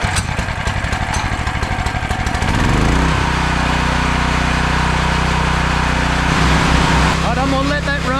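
A portable generator's small engine starts by hand with the choke on, catching after a few seconds of uneven chugging and then running in a loud, steady close-up drone.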